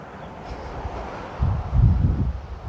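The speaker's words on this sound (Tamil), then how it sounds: "அந்த காற்று, அந்த சத்தம்." Wind blows steadily outdoors in the New Forest, rumbling across the microphone and swelling in strength toward the end, with no talking.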